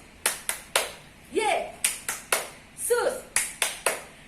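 Children at a church service clap a rhythmic chant, sharp close claps landing in a patterned beat with short chanted phrases sung between groups of claps.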